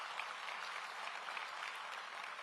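An audience at DeKalb County's State of the County address breaks into steady, sustained applause, a dense wash of clapping heard alone and at even loudness throughout.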